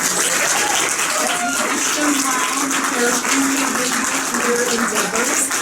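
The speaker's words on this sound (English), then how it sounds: "can we just give another round of applause to this class of interns?" Applause from the audience at a Martin Luther King Jr. internship recognition reception, honoring the class of interns; a dense, steady wash of clapping fills the room throughout, with faint voices mixed in.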